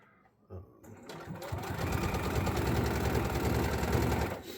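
A sewing machine stitching a spandex wrestling mask starts up after a brief pause, then runs in a continuous fast mechanical whir and rapid needle clatter, close and steady, before slowing at the end.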